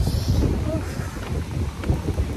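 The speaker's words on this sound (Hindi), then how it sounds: "बहुत ठंडी हवा चल रही है" Cold wind blows outdoors, a steady loud rumble of gusts buffeting the microphone with broad roaring noise throughout, no talk heard.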